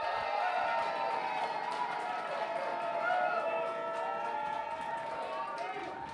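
A club crowd at a freestyle rap battle cheers, whoops and shouts steadily for a rapper, a dense continuous roar of voices filling the room throughout.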